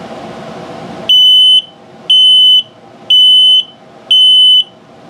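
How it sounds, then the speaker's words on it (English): Four loud, evenly spaced electronic beeps, each about half a second long, sound from the LP and carbon monoxide detector in a 2022 Flagstaff Shamrock 233S travel trailer during its self-test. Between the beeps there is only faint room noise. "LP is good. Carbon monoxide coming up. Yep, and low battery alert."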